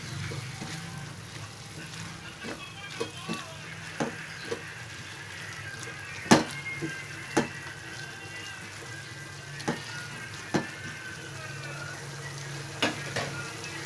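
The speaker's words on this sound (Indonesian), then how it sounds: "Kita aduk lagi." A sweet and sour sauce with chili paste and soy sauce sizzles in a frying pan while being stirred, with a continuous frying hiss and scattered clinks of the utensil against the pan.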